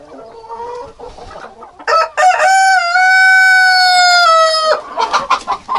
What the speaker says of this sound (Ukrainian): Дивіться, якраз курочка тужиться, несеться.